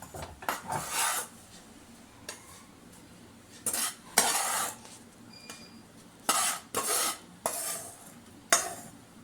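Murukku flour dough being sifted through a sieve into a bowl, giving repeated bursts of scraping, rustling and tapping with short pauses between them, close and fairly loud, with no voice.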